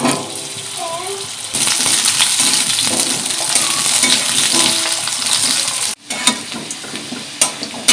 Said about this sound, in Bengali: কড়াইতে তেল দিয়ে দেব, দিয়ে আলুগুলো ভেজে নেব